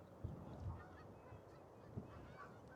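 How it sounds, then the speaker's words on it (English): Greylag geese honk at a marsh among Canada geese, a few distant low honks with a steady outdoor background, faint and unaccompanied by speech. "There are plenty of grey lag geese here."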